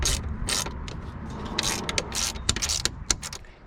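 A ratchet wrench tightens bolts on the luggage rack bracket of a Honda Africa Twin motorcycle, a close, quick, irregular clicking in short bursts with small metallic knocks.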